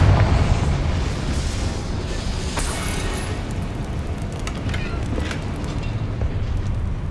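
A Confringo fire spell exploding in Hogwarts Legacy, a loud, heavy boom at the start rolling into a long, dense rumble and crackle that stays strong for several seconds.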